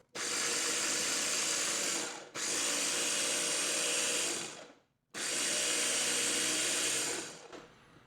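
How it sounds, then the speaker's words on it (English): A food processor blends bulgogi marinade ingredients in three loud whirring bursts, with brief pauses between them and a short trailing rattle at the end. "Food processor is great for this, that's for sure."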